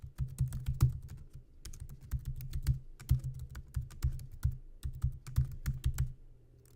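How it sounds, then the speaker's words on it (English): A password is typed on a computer keyboard, a close, steady run of crisp key clicks with brief pauses, no voices. "So I'm going to type in this crazy password"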